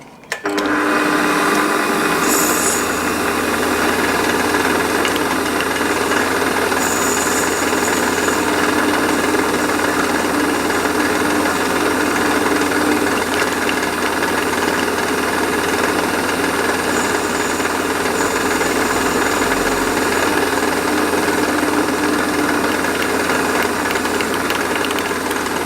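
A steady mechanical whir of a lathe facing a metal part for a model steam engine, running continuously with a constant hum and faint metallic scraping throughout.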